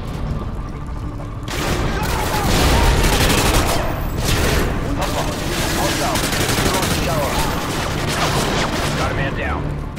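Dense, loud gunfire and booming blasts in the video game Modern Warfare 2, with continuous overlapping shots and explosions filling the whole stretch at close range.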